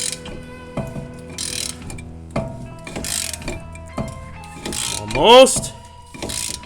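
A press tool being cranked to seat a wheel bearing on a 2003 Pontiac Vibe GT, giving repeated metallic clicks and ratcheting knocks at about one-second intervals, with a brief creaking squeal near the end and a short spoken word.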